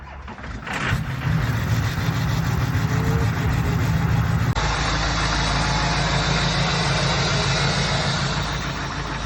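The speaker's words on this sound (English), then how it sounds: "we're gonna give you guys a good old-fashioned cold start. Let's see if she fires up" HSP shop truck engine on a cold start, with a brief cranking burst that catches into a loud, steady rumbling idle held close by.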